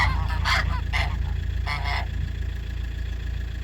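A gander honks at a neighbour's geese in a farmyard, a few loud nasal honks in quick bursts near the start and middle, over a low steady engine-like hum.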